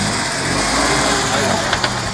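Steady engine running from a Mitsubishi Pajero II with a 3.0 V6, a continuous loud low rumble with a couple of brief bumps near the end, while voices talk over it.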